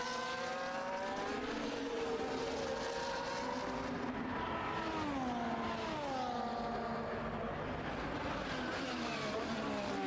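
F1 race cars overtake one another at Miami in a racing video game, in a Speed Force Racing league round. Several high-pitched engine whines rise and fall and overlap as cars pass close by, steady and loud throughout.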